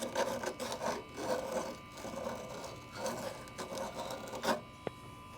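Emery cloth rubbing back and forth over the outside of an old copper pipe to deburr it during tub and shower plumbing work, a close, steady rhythmic scraping rasp with no voices.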